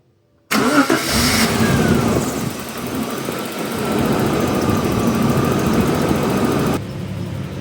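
A Jaguar XJ40 sedan's engine cranks and fires up loudly, then settles into a steady idle that runs for several seconds, recorded close with no voices.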